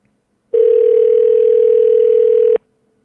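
A single loud telephone ringback tone on an outgoing call plays alone for about two seconds with a clean start and stop, surrounded by silence.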